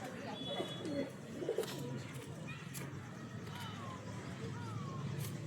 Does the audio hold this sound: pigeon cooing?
yes